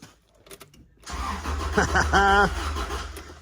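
An old Subaru Leone engine cranks over on its starter, a whirring churn that kicks in after a quiet second and holds under a brief stretch of nearby talking.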